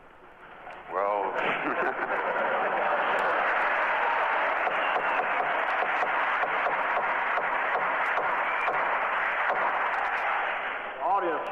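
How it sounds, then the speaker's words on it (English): Audience applause breaks out in a 1973 Watergate hearing room, a dense, steady clatter of many hands that swells after a brief voice and holds loud for about ten seconds before tapering. "audience will please refrain from applause or demonstrating their reaction to any testimony"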